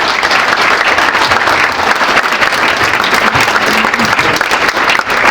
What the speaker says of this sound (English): So let's have a round of applause for these two.